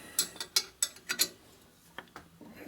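A clamp is ratcheted tight on the cylinder head of a 1980 Harley Sportster 74ci stroker during a rebuild, giving a quick series of sharp metallic clicks up close, then a few fainter ticks, no talking.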